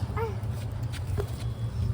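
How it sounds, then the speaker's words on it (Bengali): A puppy gives a couple of short, high whimpers over a steady low background hum, fairly close. "দেখো দেখো দেখো কতগুলো ডগি বাচ্চা"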